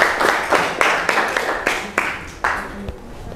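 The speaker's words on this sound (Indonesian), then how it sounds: "Beri tepuk tangan untuk kelompok" Audience clapping for a presenting group in a classroom economics lesson: a handful of sharp, separate claps in an uneven rhythm, fairly close and loud, with no talking over them.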